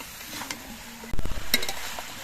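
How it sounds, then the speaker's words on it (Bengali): Vegetables and spices are stirred in a pan, a spatula scraping and clattering against the metal in a few quick strokes over a soft sizzle, close and fairly loud, with no talk. "সবজিগুলো আস্তে আস্তে নেড়ে ছেড়ে মশলার সঙ্গে বেশ ভালো করে মিশিয়ে নিতে হবে"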